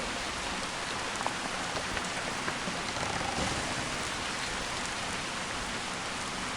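Continuous patter of rain falling on a surface, even and steady throughout with a few slightly louder drops, no voices, in the video game Gothic 2 Returning 2.0.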